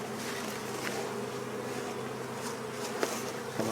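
Honey bees buzzing around an opened hive, a dense steady drone of many insects close by with a few brief clicks and knocks of the hive equipment, loud and continuous without talking.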